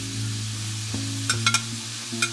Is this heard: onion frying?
yes